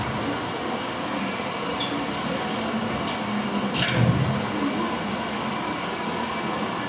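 A train rumbles steadily past with a continuous rolling roar and a brief louder surge midway, no voices.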